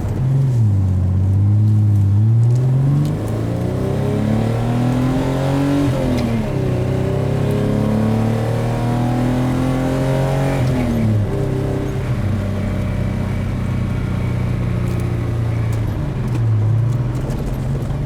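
A 1983 Datsun 280ZX engine revs and pulls steadily through the gears while driving, its tone rising and falling as it shifts, loud and close throughout the run.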